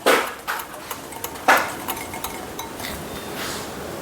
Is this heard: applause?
no